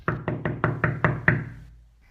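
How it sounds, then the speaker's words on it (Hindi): Seven sharp knocks on a door in the morning, evenly spaced and close, in a quick steady rhythm that ends with a brief fading ring and then quiet. "सुबह को दरवाजे पर दस्तक होती है।"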